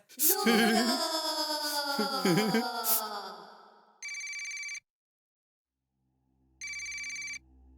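A phone ringtone plays in two short electronic bursts separated by a pause, following a few seconds of tonal, melodic sound.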